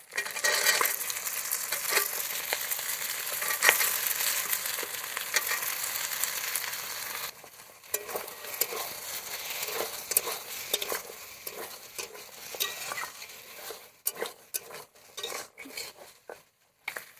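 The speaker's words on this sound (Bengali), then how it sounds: "আমি এবার দিয়ে দেবো কেটে ধুয়ে রাখা আলু আর শিমের বীজ, ভালো করে একসাথে ভেজে নেব।" Potatoes and bean seeds sizzle steadily in a hot pan, with a spatula scraping and clinking against the metal; the sizzle eases partway through while the stirring continues.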